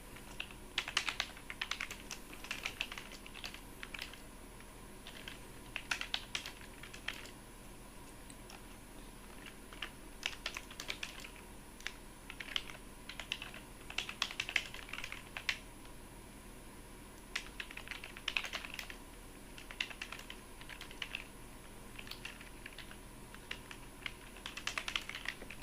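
Close, quiet typing on a computer keyboard, steady clusters of light key clicks in bursts separated by short pauses, with no talking.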